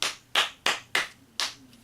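Five sharp hand claps in a steady, evenly spaced rhythm, close and crisp, each with a short decay and nothing else around them.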